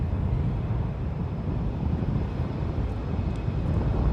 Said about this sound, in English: the arrival is United Airlines Flight 1794 coming in from Kahului. It's a 737-800.